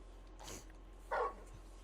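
The large dog Torgal in the video game Final Fantasy XVI gives two short barks, a softer one followed by a sharper, louder one, heard close over a quiet low hum.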